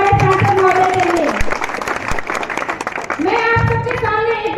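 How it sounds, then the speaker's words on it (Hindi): A crowd at a public gathering in Siliguri gives loud applause for their member of parliament. The clapping is dense and sustained, with a break in the middle, and tonal sound runs beneath it. "इसी बात से जोरदार तालियां हमारे सांसद महोदय के लिए"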